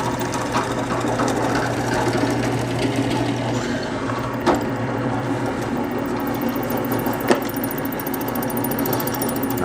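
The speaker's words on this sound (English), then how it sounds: "I'm gonna cut a bunch of mortises." A mortiser cuts mortises into wood for breadboard table ends, giving a loud, steady mechanical drone with a few sharp thumps as the chisel plunges. No one talks.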